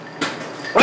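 Popcorn pops inside a covered pot on the stove, heard as a continuous close sizzle and rattle with a couple of louder bursts of popping kernels.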